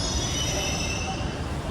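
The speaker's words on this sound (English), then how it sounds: "Yes, the train has arrived." A Mumbai Aqua Line metro train arrives at Lower Malad station with a steady rumble, rail noise and a faint high squeal, loud and close.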